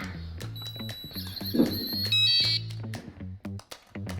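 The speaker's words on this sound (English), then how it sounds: "The only problem with that is that annoying beep." Several short electronic beeps from an RV door's keypad lock, with a sustained tone near the middle, over a low background hum and some clicking.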